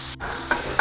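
Crumbled paneer tossed into a hot pan for paneer burji, a brief sizzle of frying with two quick scraping stirs, close and clear.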